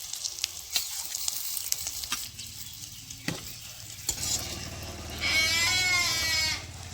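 Eggs frying in hot oil, with crackling sizzles and sharp spatters near the pan, then a brief louder burst of bubbling hiss toward the end.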